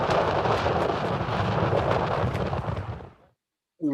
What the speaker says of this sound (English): Now, we just need to hunker down and ride out this ferocious storm.